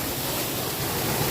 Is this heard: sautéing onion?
no